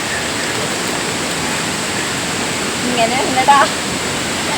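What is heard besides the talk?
Meenmutty waterfall rushing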